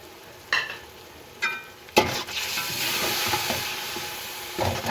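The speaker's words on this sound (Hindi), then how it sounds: "और इसको भी 2 से 3 मिनट भून लेंगे।" Masala of red chili powder, turmeric and salt fries in oil in a pan, a steady loud sizzle after a few short scraping stirs, with more stirring near the end.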